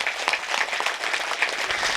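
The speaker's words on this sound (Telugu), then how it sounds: "ఒక్కసారి గట్టి క్లాప్స్ అండి." Sustained applause from a crowd gathered at a Sankranti meditation retreat, dense clapping filling the space at a steady level for a couple of seconds with no voices on top.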